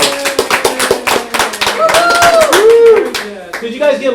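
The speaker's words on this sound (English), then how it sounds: "Everyone give Shauna and Richard applause." A small group applauds at a Toastmasters meeting, sparse, uneven claps close by mixed with voices and what sound like excited vocal exclamations over the clapping.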